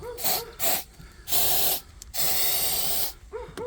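Several sharp hissing bursts of F-Killer aerosol insecticide are sprayed at a wasp nest, with short pauses between them. The longest blast comes near the end.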